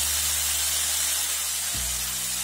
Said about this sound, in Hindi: सभी को चलाते हुए अच्छे से भून लेंगे ताकि इनका कच्चापन निकल जाए